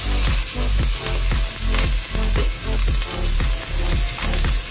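Garlic and ginger stir-fry loudly in hot oil, a constant crackling sizzle cut by quick, rhythmic spatula strokes scraping the pan.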